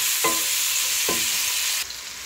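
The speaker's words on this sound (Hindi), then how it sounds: "टमाटर डाल के मैंने सबको अच्छे से मिक्स कर लिए" Chopped tomatoes stirred into eggplant bharta in a hot pan: two scraping stir strokes ride over a continuous close sizzling hiss, which drops off abruptly near the end.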